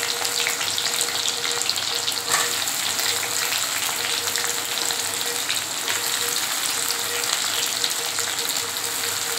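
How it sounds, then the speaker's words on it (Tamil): Onions sizzle steadily in hot oil while drumstick thokku is being cooked, a continuous close crackling fry with occasional stirring, no voices present. "இப்போ வந்து வெங்காயம் நல்லா வதங்கிட்டாங்க"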